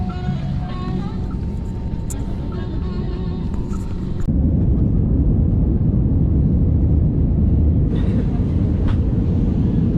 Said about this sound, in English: On the plane.